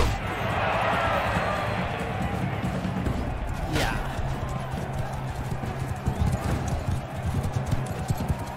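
Horse hooves clatter in a steady galloping rhythm in a Mount and Blade Bannerlord tournament, continuous and loud beneath a dense wash of crowd and battle noise.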